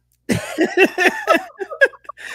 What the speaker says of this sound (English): Nothing like a pre-show coughing fit to get you going.